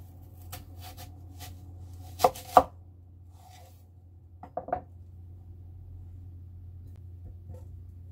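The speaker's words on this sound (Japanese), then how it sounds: "今日はみじん切りにね。" A knife chops half an onion finely on a board, a few sharp isolated knocks in two small clusters over a low steady kitchen hum, with quiet gaps between.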